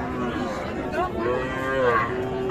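Young bulls at a livestock market low in drawn-out moos over a constant hum of crowd noise, with a second rising call near the end.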